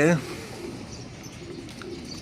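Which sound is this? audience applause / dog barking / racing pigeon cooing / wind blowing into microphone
racing pigeon cooing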